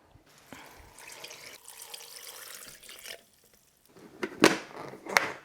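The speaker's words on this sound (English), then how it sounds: "I'm going to add in some water." Water pours onto chopped pandan leaves in a blender with a soft, steady splashing rush. Louder sloshes and drips come near the end, and no one talks.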